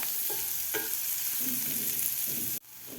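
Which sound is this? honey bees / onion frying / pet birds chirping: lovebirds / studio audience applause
onion frying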